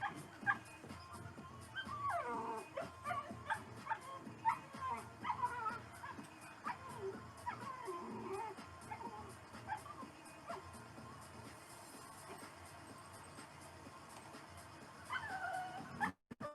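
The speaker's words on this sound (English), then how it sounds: "Hold on, can y'all hear my puppy?" A puppy barks, yips and whimpers on and off at moderate distance in a workshop, faint and intermittent, mixed in with a person talking.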